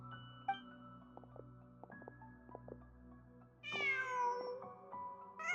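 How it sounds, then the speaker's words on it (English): A cat meows in a video game: a clear, tonal meow stands out near the end over quiet ambient game music with soft chimes. "Huh. Just a cat."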